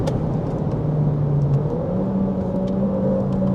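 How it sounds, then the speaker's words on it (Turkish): A new VW T-Roc's engine droning at high revs from inside the cabin, a steady rumble with a rising hum over road noise. "Makineyi biraz zorladığında üst devirlerde ses geliyor haliyle."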